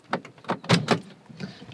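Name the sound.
Volkswagen Kombi van door opened from outside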